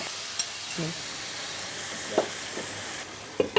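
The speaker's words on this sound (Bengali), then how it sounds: "আমরা হাই ফ্লেম দিব মেনলি হচ্ছে যে চিকেনটাকে সিল করে ফেলার জন্য" Chicken sears in a pan over a high flame with a steady, bright sizzle and hiss that runs throughout. A few soft scrapes and knocks of stirring break through now and then, and no one speaks.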